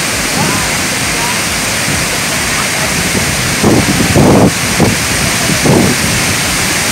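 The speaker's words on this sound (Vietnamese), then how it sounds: "Qua thác kìa các bạn ơi, bên kia là thác." Dambri waterfall rushes with a loud, unbroken roar of falling water heard close by, mixed with wind buffeting the microphone and short bursts of people talking over it.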